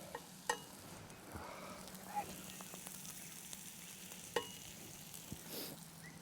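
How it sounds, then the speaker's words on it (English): Bacon and egg breakfast wrap frying in a pan over a campfire, a soft steady sizzle with faint scrapes and a few small pops, heard at low level in the open air. "Wait for the egg to cook."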